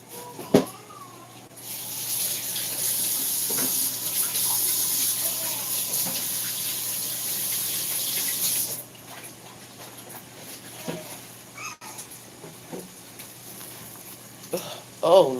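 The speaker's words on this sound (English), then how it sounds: "let me wash my hands" A kitchen tap runs strongly for several seconds while hands are washed under it, then shuts off, leaving quiet room noise with a few faint bumps.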